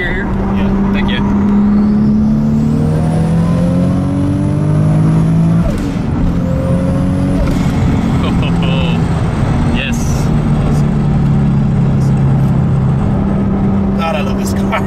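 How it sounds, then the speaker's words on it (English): A Toyota Supra with a 2JZ-GTE engine making about 800 horsepower revs hard in third gear, the loud rising engine note climbing and dropping through several pulls while people talk over it. "And it revs just so smoothly."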